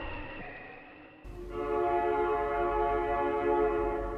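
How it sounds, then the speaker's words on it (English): A slow train sounds its horn as it approaches a long mountain trestle, a sustained tonal blast that starts abruptly and holds loud and steady over a low rumbling background. "Looks like a long trestle up ahead. I'd get aboard that train if it weren't so slow."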